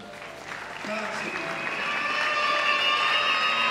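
Church congregation at a pastor's consecration service breaking into applause, clapping that swells and grows denser over a few seconds, with a voice heard faintly at the start.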